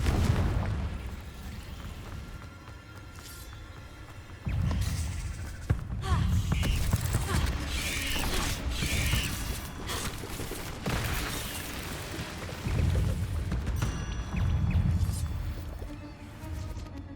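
Confringo blasting spell explosions inside a cave in Hogwarts Legacy, a series of heavy booming bursts with rumbling tails, spread through the stretch under game effects and occasional talk.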